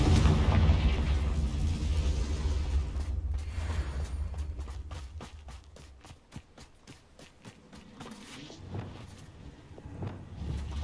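A Confringo spell explodes in the video game Hogwarts Legacy, giving a loud rumbling blast that fades into a burst of rapid crackling pops and scattered impacts.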